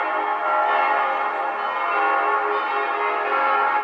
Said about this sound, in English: They love church bells.